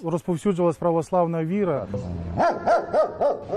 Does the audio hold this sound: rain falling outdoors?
no